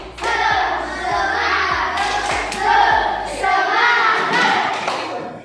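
A group claps out a rhythmic spirit clap in repeated bursts of quick, close hand claps with thumping accents, mixed with voices calling and chanting over the beat.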